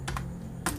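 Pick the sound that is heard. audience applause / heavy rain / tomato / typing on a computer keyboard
typing on a computer keyboard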